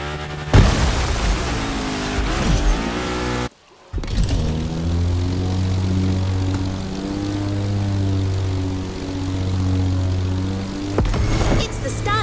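Propeller aircraft taking off in The Crew Motorfest racing game, a loud close droning engine with steady pitched harmonics that swell and hold after a brief cut, with a voice talking at the start.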